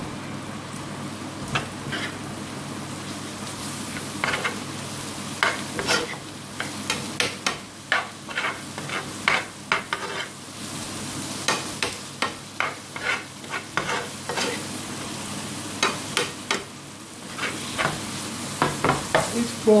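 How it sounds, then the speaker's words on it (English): Pre-cooked prawns tossed into bottle gourd bhaji in a pan, with a steady sizzle and repeated spatula scrapes and clinks in an uneven rhythm, close and clear, with no talk. "I think it's about time we should put our prawns in now."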